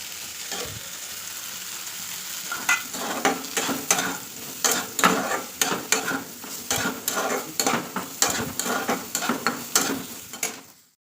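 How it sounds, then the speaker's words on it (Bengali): Soybean chunks and mixed vegetables fry in oil in a pan, a constant close sizzle broken by a quick run of sharp scraping stir strokes that start slowly and grow into a busy rhythm. "আর একটু সোয়াবিন ভাজবো"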